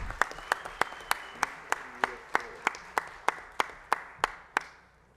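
Applause for the organizers of a solemn award session: a slow, even run of single loud claps, about three per second, close and steady, with faint murmuring behind.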